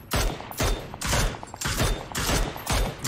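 Rapid bursts of gunfire in the battle-royale game PUBG, several loud volleys of automatic rifle shots repeating roughly every half second, close and dominant with no talk.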